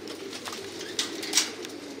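Thai pigeons kept on a farm coo softly and repeatedly at a moderate distance, low murmuring calls over a quiet background with a couple of brief brighter sounds, no voices.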